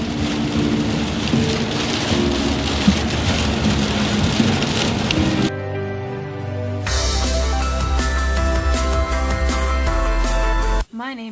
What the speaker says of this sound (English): Why does it sound like it's hailing now?